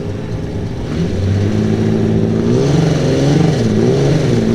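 A mod light speedway race car, driven by a 16-year-old on his first run at Murray Bridge Speedway, revs hard with a rising and falling engine note that climbs steadily louder, close and continuous.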